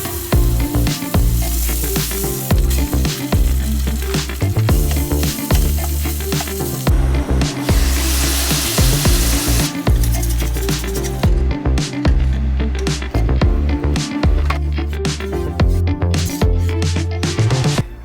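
Bacon slices and elk meat fry in a pan at an off-grid riverside van campsite, a loud steady sizzle running throughout with repeated clanks and scrapes of stirring over a low background hum.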